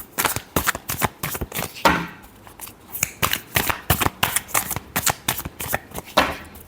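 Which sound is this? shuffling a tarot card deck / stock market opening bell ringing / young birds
shuffling a tarot card deck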